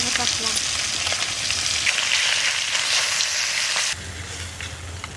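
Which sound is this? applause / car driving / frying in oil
frying in oil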